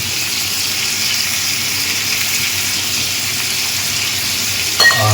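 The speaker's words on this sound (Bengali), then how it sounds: "এবার এটা যখন মিটটা একটু ফ্রাই হচ্ছে" Sliced pork frying in a pan gives off a steady, loud, continuous sizzle throughout, with a brief clatter or stir right at the end and no voices.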